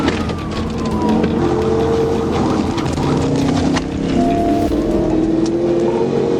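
A black Dodge Charger races at night during a high-speed police chase, its engine roaring loud and steady with shifting pitch and a siren-like wail rising in the mix throughout.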